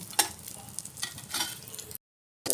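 Chopped dry fruits fry and are stirred in a pan. A soft, close sizzle comes with light scraping strokes, then cuts briefly to silence before resuming; no one speaks.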